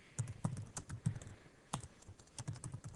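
Typing on a computer keyboard, close up: a quick run of crisp clicking keystrokes in uneven bursts with a short pause midway, no voices.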